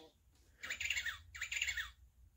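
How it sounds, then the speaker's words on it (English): A penguin sound effect from a children's play-a-sound storybook gives two squawking, chirpy bird calls in quick succession, close and clear with no talking. "Harry the Penguin"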